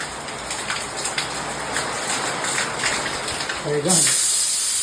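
Dense, steady monsoon rain hisses loudly throughout, with faint voices beneath and a brief splash or gush near the end.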